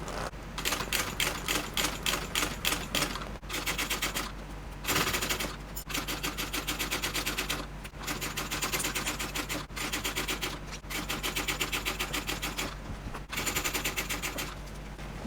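Domestic sewing machine stitching through a thick seam on a vinyl bag, a loud, rapid mechanical chatter running in bursts with brief pauses between runs.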